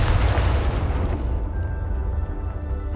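A Confringo blasting spell explodes in Hogwarts Legacy with a heavy, loud boom that rolls out into a low rumbling decay over a few seconds, with no voices.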